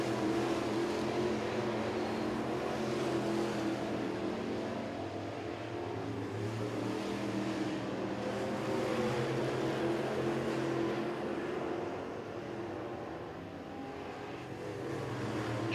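Late model sportsman stock cars race around a short oval at night, a continuous engine drone that swells and fades slightly as the pack circles, heard from a distance.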